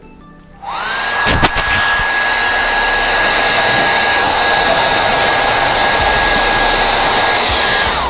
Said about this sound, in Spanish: Para acelerar el secado, tú puedes ocupar secador de pelo.